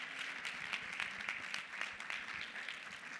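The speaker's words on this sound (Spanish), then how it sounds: "para Andrés le vamos a dar un fuerte aplaudiment" Faint, steady applause from an audience at a teachers' experience-sharing session, sounding somewhat distant and continuous for a few seconds with no talking.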